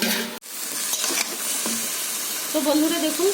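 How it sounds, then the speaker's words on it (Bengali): Pumpkin greens and potatoes frying in oil in a covered kadai give a steady, moderate sizzling hiss, with a brief dip near the start and a faint voice-like tone toward the end. "তো বন্ধুরা আমি চাপা দিয়ে ভেজে নেব।"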